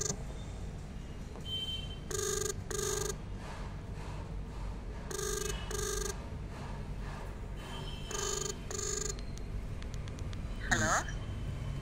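A phone rings over speakerphone during a call, repeated double-burst ring tones spaced across the span, moderately loud over a steady background hum.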